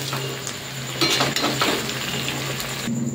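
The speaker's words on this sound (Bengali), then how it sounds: "এবার আর কি এটা এবার ভালোভাবে মিশিয়ে ঢেকে দেব।" Fried chicken stirred into bubbling chili chicken sauce in a pan, a close, continuous simmering hiss with scraping, clattering stirs of a utensil against the pot.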